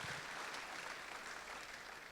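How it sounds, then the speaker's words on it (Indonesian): Congregation applauding in a church service, a faint, distant, continuous patter of many hands. "Beri tepuk tangan kemuliaan buat Tuhan."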